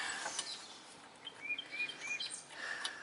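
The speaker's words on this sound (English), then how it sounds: "At least the birds are happy today." Birds chirp and tweet outdoors during a Ford Explorer brake repair, with scattered short calls and a few clearer whistled notes at moderate distance, no voices.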